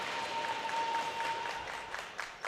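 Crowd applause at a junior women's lacrosse game rewarding goalie saves, a steady, fairly distant patter of clapping that holds for a couple of seconds with a few sharper claps near the end.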